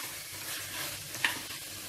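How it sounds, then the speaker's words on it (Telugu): Pieces of skin-on country chicken fry in a little oil in a pan while being stirred, a close, continuous sizzle with a spatula scrape and one sharp clink partway through. "ఇప్పుడు ఈ చికెన్ని 5-6 నిమిషాలు బాగా ఇలా కలుపుకుంటూ బాగా వేగనివ్వాలి."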